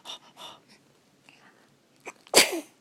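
A baby about six weeks old gives one sharp, close sneeze after a few soft breaths and small fussy sounds, with nobody talking.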